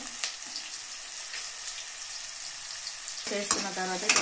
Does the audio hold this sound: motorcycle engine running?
no